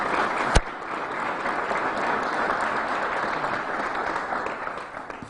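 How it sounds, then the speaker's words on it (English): An outdoor crowd at a groundbreaking ceremony for a new Irondequoit community center claps for the Lieutenant Governor. One sharp crack comes near the start, then an even, sustained wash of applause that tapers slightly at the end. "Please give a round of applause for Lieutenant Governor Kathy Hogan"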